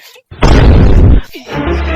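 A single loud gunshot sound effect booms for under a second, a dense explosive burst followed by a brief rumbling tail, with voices around it in a comic film spoof.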